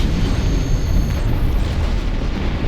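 A ship explosion in the space combat game Star Trek Online, a loud rumbling blast with dense low-end boom and crackle lasting a few seconds, alone without talk.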